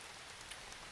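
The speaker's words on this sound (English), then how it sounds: "It's still raining out." Rain falling outside a trail shelter, a faint, steady patter of drops with no voices.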